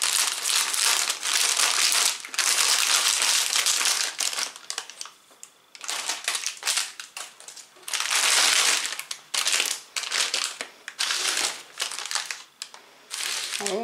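A plastic package of Sladial sugar cookies, Formel de Caramel, is torn and opened up close, with loud bursts of crinkling and crumpling plastic broken by short pauses and no talk.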